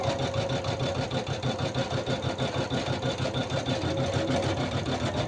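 A Usha 550E embroidery machine stitches a design onto net fabric. Its needle makes a fast, steady mechanical chatter with a rhythmic pulse, running continuously and close up with no talking.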